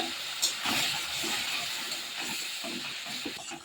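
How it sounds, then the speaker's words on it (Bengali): Jaggery melts and boils with a little water in a pan for a pickle, giving a steady hiss of bubbling and steam with faint irregular pops, close and fairly soft, no voices. "এ দেখুন গুড়টা একটু জল দিয়ে ভালোভাবে ফুটিয়ে নিচ্ছি"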